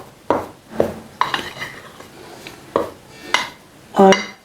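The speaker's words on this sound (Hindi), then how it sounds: "ये चावल का आटा मीन्स के राइस फ्लोर अच्छी तरह से मिक्स हो गया," Rice flour batter being mixed in a bowl, a handful of separate clinks and scrapes of a utensil against the dish with pauses between, fairly close and alone.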